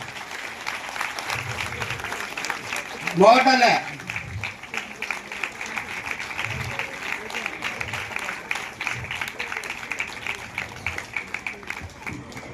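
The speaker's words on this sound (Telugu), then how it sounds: "ఒక్కసారి మీ అమూల్యమైన హస్తాలతో చప్పట్లు గట్టిగా కొట్టమని కోరుతున్నాం" An audience claps at a public gathering in Macherla. Dense, continuous applause runs the whole time, and a voice briefly speaks over it near the start.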